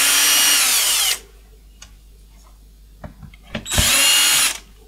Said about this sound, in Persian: خب این پیچ ها رو باز میکنم